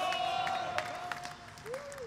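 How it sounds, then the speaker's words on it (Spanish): Audience at a rap battle breaking into applause, a steady patter of many hands clapping with crowd noise and a few voices underneath. "¡fuerte el aplauso!"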